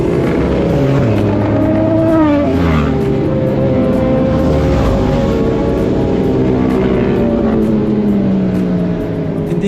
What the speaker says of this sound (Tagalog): nasisira siya ng ingay mula sa mga naka-open muffler at mga feeling nag-racing-racing